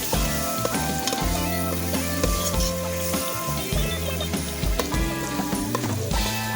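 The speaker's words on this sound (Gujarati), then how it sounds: "પછી તેને સરખી રીતે મિક્સ કરી લેવાનું છે આ રીતનું હલાવીને" Grated roasted eggplant mash for Gujarati oro is stirred in a hot pan, giving a steady sizzle with repeated scraping and knocking strokes of a spoon at an irregular rhythm; no voices.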